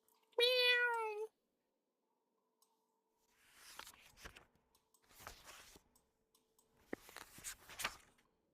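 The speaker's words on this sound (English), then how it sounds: "Did you hear the cat?" A single clear cat meow up close near the start, then a pause and a few stretches of soft rustling and clicking noises.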